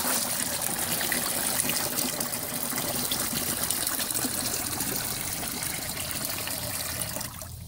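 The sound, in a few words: alfalfa liquid being diluted with water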